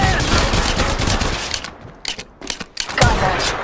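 Rapid automatic gunfire in Apex Legends Mobile, loud and close: a dense burst of shots, then choppy short volleys with brief gaps, and a final heavy burst.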